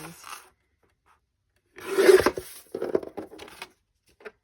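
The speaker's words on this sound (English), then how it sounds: "I'm just going to cut out the square first, and then I'll deal with trimming it to the right size." A paper square for ephemera is cut out in a couple of short bursts of dry rasping and rubbing after a quiet pause, close and moderately loud.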